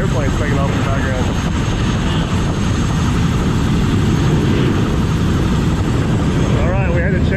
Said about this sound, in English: I'm more interested in the airplanes taking off in the background.